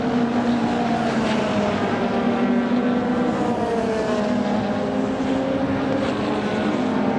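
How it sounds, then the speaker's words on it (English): A Westfield race car with a race-tuned Vauxhall Red Top 2-litre engine roars steadily at Brands Hatch, a loud continuous engine drone with shifting pitch held throughout, no speech. "Extraordinary looking bewinged Westfield with the 2-litre race-tuned engine under the bonnet"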